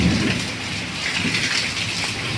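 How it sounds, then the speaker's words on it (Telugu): Heavy rain pouring down in a storm, a loud continuous close roar of falling water with a low rumble of thunder underneath. "ఈరోజు మా ఊర్లో చాలా బీభత్సమైన వర్షం, ఉరుములు మెరుపుతుంది"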